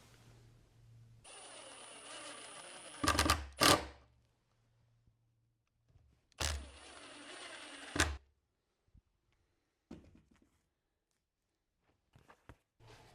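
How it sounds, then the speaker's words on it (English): A power screwdriver drives screws to fix a painting into a float frame, with two separate whirring runs, each ending in sharp clunks, followed by scattered faint taps in near silence. "use a piece of foam for downward pressure and attach the painting with a few screws from the bottom"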